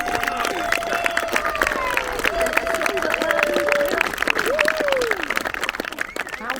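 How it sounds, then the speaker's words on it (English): A crowd claps and cheers at a motorhome and campervan show, a steady mass of applause lasting several seconds, with whistles or tonal sounds and voices mixed over it. "Give them a round of applause."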